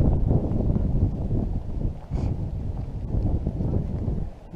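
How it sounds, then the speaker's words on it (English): Strong outdoor wind buffeting the microphone in continuous low rumbling gusts that vary in strength, with no voices heard. "the wind's pretty strong"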